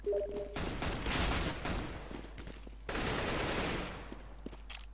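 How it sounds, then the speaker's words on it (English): Bursts of AK rifle fire in the CS:GO video game, two long loud volleys of rapid shots separated by a brief lull, with faint game ambience and no talk. "Cyphex trying to put an AK to use"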